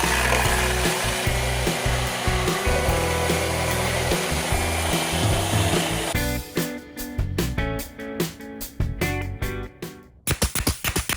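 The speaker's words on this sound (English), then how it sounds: "just kind of sand it flat a little bit so it fits a little flatter on the base" Continuous abrasive sanding of a wooden birdhouse part, rough and steady, then breaking into rapid rhythmic back-and-forth strokes toward the end, close by and fairly loud.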